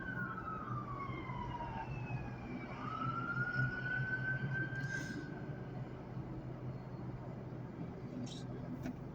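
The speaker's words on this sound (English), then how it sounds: "Ambulance." An ambulance siren wails in the distance with slow rising and falling tones over low traffic rumble, fairly faint and steady throughout.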